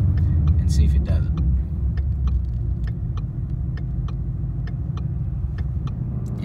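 A 2017 Ford Mustang 5.0 V8 idling at a stop makes a steady low rumble with faint irregular ticking, heard from inside the car.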